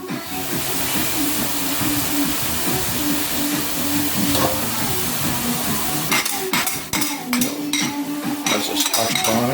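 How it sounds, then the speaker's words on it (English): Ingredients for a beef curry lasagna sauté in a pan with a steady sizzle, joined by metal utensil clinks and scrapes against the pan that grow more frequent toward the end, heard close with no voices. "So this is the sautéing process that is just going through."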